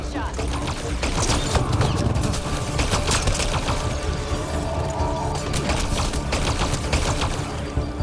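Rapid gunshots from a firefight against outlaws on Kadara in Mass Effect Andromeda, loud and dense over a busy game soundscape of mechanical clatter and effects, with bursts of sharp cracks spread across the moment.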